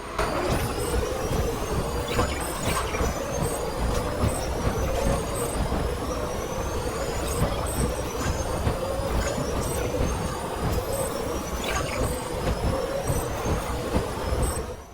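A vehicle driving on a road in Death Stranding on PS5, giving a continuous steady engine and road drone with faint whining tones and occasional rattling bumps.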